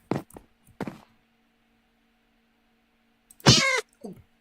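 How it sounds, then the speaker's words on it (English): A pet cat in a video game, just hit by accident, lets out a sharp loud meow, preceded by a few soft thuds and taps and followed by quiet stillness. "Oh, I hit my cat on accident."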